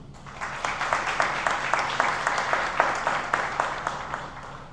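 An audience applauds after the introduction of the opening speech at a civil registry reform forum in Haiti, a steady wash of clapping with audible individual claps and a faint voice underneath.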